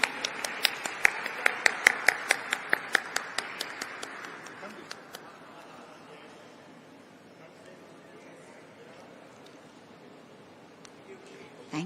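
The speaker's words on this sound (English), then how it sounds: "Let's have a huge round of applause" An audience at a stock exchange listing ceremony for Waaree Energies claps in a brisk burst of sharp hand claps that thins out and fades after a few seconds, followed by quieter room murmur.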